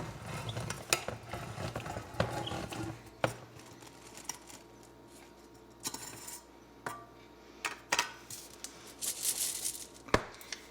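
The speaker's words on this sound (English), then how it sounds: "let's open up this Augason Farms Granola" Crinkly plastic of a vacuum-sealed Augason Farms granola pouch being torn open and handled up close, with sharp rustles, crackles and a few clicks in irregular bursts.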